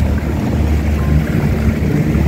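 A private speed boat on Lake Como hums steadily with a low engine drone, mixed with water rush and wind buffeting close to the microphone.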